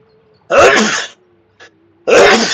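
Two loud, close sneezes about one and a half seconds apart, each a sharp explosive burst, with a faint steady tone in the background between them.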